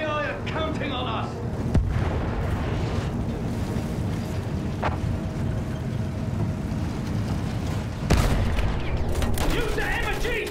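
Sustained machine gun fire in the video game Battlefield 1, mixed into a dense roar of battle noise and engine rumble, with a few louder cracks standing out.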